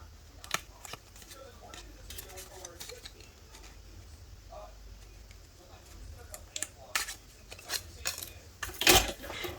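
Paper being cut with scissors for a scrapbooking project of a vintage camera lens, a few sharp snips and a louder crunchy cut near the end, with quiet speech around it.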